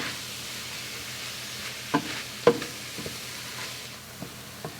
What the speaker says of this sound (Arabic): هلا بدي احط الكزبره الخضراء الفارميتا فوق الخضره وبقلبهم كلهم مع بعضهم